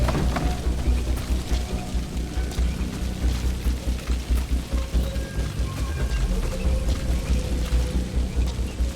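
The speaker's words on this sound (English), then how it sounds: "Caution, rain approaching." Steady rain pours down with a low, rolling rumble of thunder beneath it, a continuous pulsing storm ambience with no voices, in the video game Metal Gear Solid V: The Phantom Pain.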